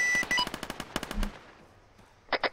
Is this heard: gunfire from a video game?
yes